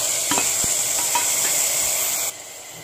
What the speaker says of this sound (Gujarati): હવે આપણે ટામેટાની ગ્રેવી નાખી દઈશું.